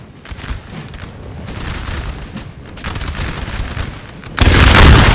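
Musket volleys ring out in the video game Napoleon Total War during the 1792 Battle of Jemappes, a steady crackle of massed gunfire that swells into a loud, close burst at the end.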